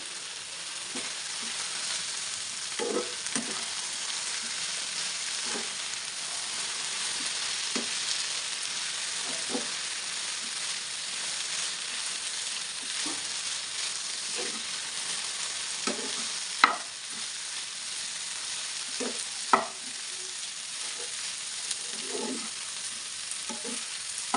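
Okra and potato fry in a pan with turmeric and garam masala, a quiet steady sizzle under occasional spoon-stirring clicks and scrapes, a couple of them louder, spread unevenly over a long stretch.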